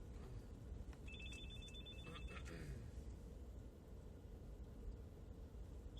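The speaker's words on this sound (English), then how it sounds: "Phone's ringing off the hook here too." A telephone rings with a few short trilling bursts near the start, faint behind heavy steady background noise and rumble.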